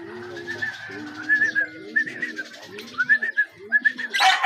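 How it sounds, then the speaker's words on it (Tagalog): A pigeon or dove coos in soft, low, rhythmic phrases close by, repeating several times in a quiet setting with faint higher chirps mixed in. "Lumalapit yung ibon isa."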